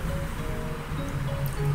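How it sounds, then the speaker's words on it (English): Rushing water in the Waterfall area of the video game Undertale, a soft steady flowing wash with faint low tonal hums beneath, continuous and fairly quiet for under two seconds. "The sound of rushing water fills you with determination."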